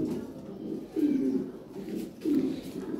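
A pair of large Lahori Sirazi pigeons cooing close by, soft throaty coos swelling in two clear bursts over a steady low murmur.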